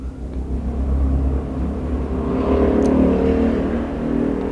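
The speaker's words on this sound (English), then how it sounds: "motorcycles are very noisy" Motor vehicles, likely motorcycles, pass by outside, a loud engine drone that swells and revs through the middle and stays close and continuous with no speech.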